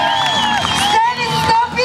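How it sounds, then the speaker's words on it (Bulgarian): Outdoor town festival crowd applauding and cheering, with whoops and shouts over dense sustained clapping, loud and close, with a tonal voice or horn line running through. "Още веднъж вашите аплодисменти за Христо Липиев!"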